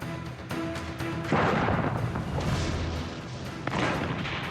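Massed cannon artillery fire at the start of the Ardennes offensive, dense rumbling booms and cracks layered over each other, with a few sharper blasts standing out from a continuous roar.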